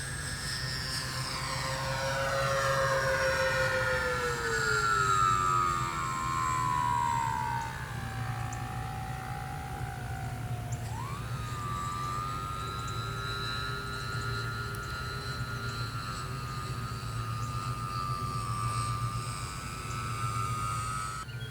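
A Dynam E-2C Hawkeye twin-engine RC model airplane passes overhead, its electric motors whining loudly with a sweeping pitch that falls, then jumps and holds as the plane flies on, steady throughout with no talk.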